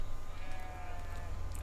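Sheep bleat softly in a farming simulation game, a faint wavering animal cry sitting over a low steady hum of game ambience, distant rather than close.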